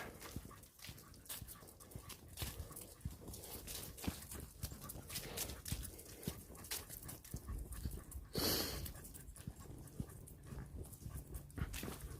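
Dogs pant steadily outdoors, with footsteps and rustling throughout and a brief louder burst of noise partway through.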